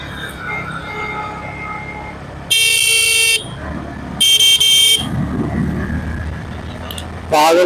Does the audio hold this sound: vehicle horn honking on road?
yes